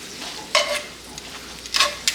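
New York strip steak frying with salt, pepper and raw garlic in a pan, a soft steady sizzle broken by two bright scraping bursts as the meat is turned and stirred.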